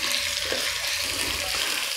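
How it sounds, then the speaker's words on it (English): Onions fry in a pot for mutton shorba with a dense, continuous sizzle and crackle. The sound sounds close and fairly loud, and it stays even throughout the short stretch. "I'm going to let the onions brown a bit, not much, but just start getting brown."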